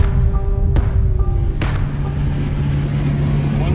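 A $1,000 car drives along a road during the Mille Mille race, its engine humming as a steady, loud low rumble with brief rattles and clicks over the top.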